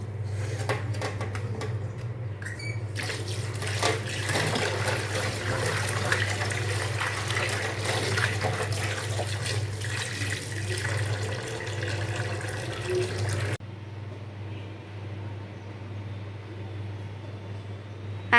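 Leafy greens that were soaked and still gritty with sand are rinsed under a running kitchen tap, a steady close hiss of flowing water that carries on unbroken and drops abruptly to a quieter trickle near the end.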